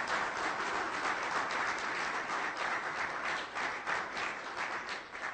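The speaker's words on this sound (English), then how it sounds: "Let's give them a round of grand applause" A large audience at an academic workshop on manufacturing research applauds steadily, a dense, even wash of many hands clapping at moderate distance, sustained without pause and without any voices.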